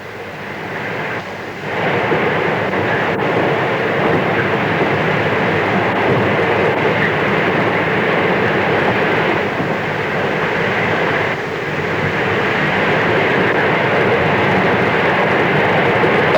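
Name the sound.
train travelling across the Nullarbor Plain, Australia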